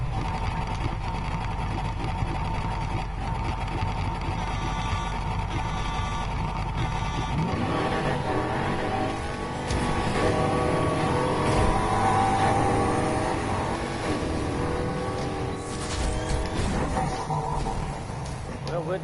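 A car engine racing in the video game Need for Speed Heat, with nitrous boost, a sustained loud drone whose pitch rises and shifts midway as the car speeds up, with people talking over it.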